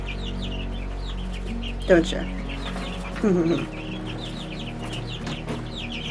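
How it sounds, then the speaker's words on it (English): A young rooster in a greenhouse gives two short, loud clucking calls close by, with softer bird chirps behind and a brief spoken line. "I think this one's actually a rooster"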